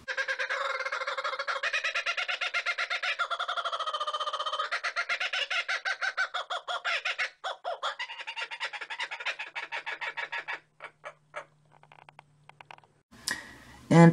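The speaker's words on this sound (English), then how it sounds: "This certain kookaburra in Australia is known for its distinctive sound, which said resembles human laughter" Australian kookaburra giving its laughing call: a loud, rapid stream of harsh, chuckling cackles that rise and fall for several seconds, then break into scattered hoots before trailing off, with a brief noisy burst at the end.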